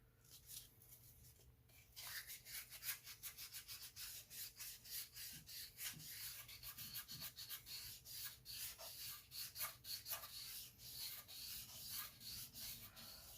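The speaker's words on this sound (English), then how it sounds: "Sandpaper, I'm using a 400 grit." Sanding a Toyota 7M-GTE engine block with 400 grit sandpaper by hand, quiet rapid back-and-forth scrubbing strokes starting after a short pause and continuing in a steady rhythm.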